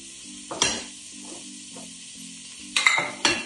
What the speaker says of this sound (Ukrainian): О, вже шкварчить.